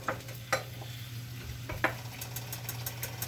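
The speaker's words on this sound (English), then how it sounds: "fry the garlic and the ginger" Garlic and ginger sizzling in a hot pan as they fry, a steady close crackle with occasional stirring scrapes and knocks and a low hum underneath, no speech.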